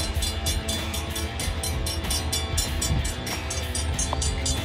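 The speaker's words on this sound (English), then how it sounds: "We got a train coming right now." Wheeling and Lake Erie Railway train rolling past at a rail interchange near the diamonds: steady loud rumble with rhythmic wheel clicks over the rails.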